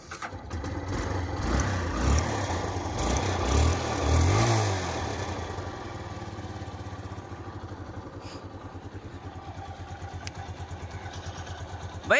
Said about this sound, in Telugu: ఒకసారి మీకు బండి స్టార్ట్ చేసి ఇంజిన్ బీటింగ్ అనిపించేస్తే వినేసేయండి.